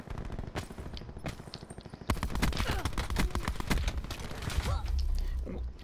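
Rapid bursts of automatic gunfire from a weapon in a video game firefight, loud and close, with a steady rattling rhythm that intensifies midway, and no speech over it.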